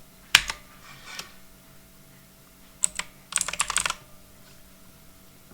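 Someone types on a computer keyboard in a few quick bursts of close, crisp key clicks separated by quiet gaps, no voices.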